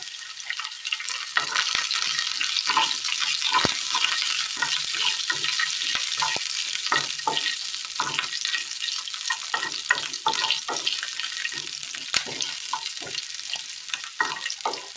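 Urad dal, pepper, shallots and dried chillies fry in hot oil in a Kerala-style tempering, giving a steady crackling sizzle with frequent popping spatters throughout.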